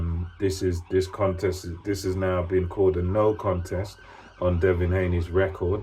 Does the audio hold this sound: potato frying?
no